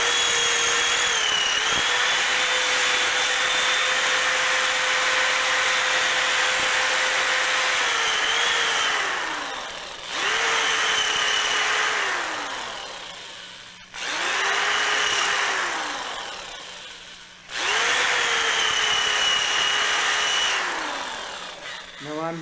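A power drill whirs close by in several bursts while enlarging a hole in a lightsaber hilt, revving steadily, slowing briefly between runs, then speeding back up as it works.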